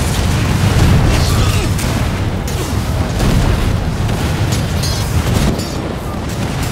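A bomb explosion in the video game Risen 3 is a loud, deep, sustained rumbling boom that fills the whole stretch without pause, with only a faint hint of voice beneath.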